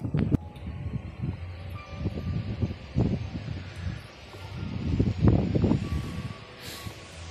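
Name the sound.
strong wind blowing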